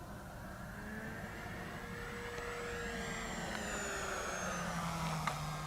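An E-flite Cherokee 1.3m RC airplane climbs in flight, its steady electric motor whine rising and shifting pitch as it pulls up, heard continuously at moderate distance over outdoor background noise.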